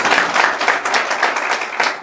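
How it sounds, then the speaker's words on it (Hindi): A crowd at a Banjara community gathering in Madhya Pradesh claps loudly for a speaker, a dense, steady burst of applause with no talk over it. "उसके लिए एक बार जोरदार ताली मारता हूं"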